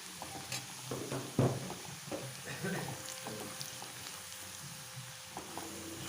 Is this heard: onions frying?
yes